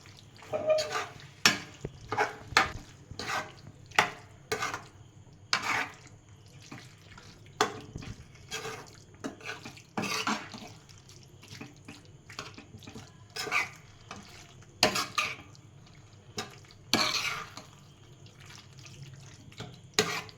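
Egg curry being tossed in a pan, with irregular metallic clanks and scrapes repeating close by over a low kitchen background and no speech.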